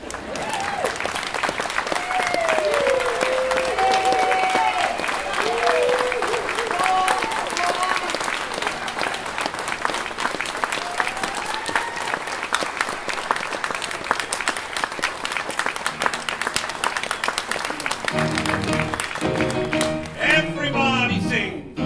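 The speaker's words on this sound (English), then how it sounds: "You can clap if you like." An audience breaks into sustained applause after a toast at a tribute gathering, dense clapping filling the room steadily with a few voices cheering, then settling near the end as singing and talk begin.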